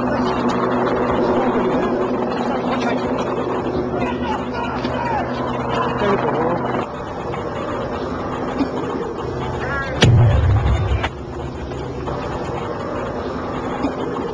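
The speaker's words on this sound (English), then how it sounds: "Yeah, there's another grenade." One sharp grenade blast bursts out of a crowd amid vehicle rumble and people talking, a brief loud crack with a low thud near the end of the stretch.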